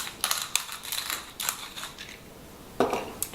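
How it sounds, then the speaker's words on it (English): Black pepper freshly cracked in a hand grinder over chicken thighs, a series of short crunchy grinding bursts in an irregular rhythm, close and fairly quiet. "Freshly ground cracked pepper."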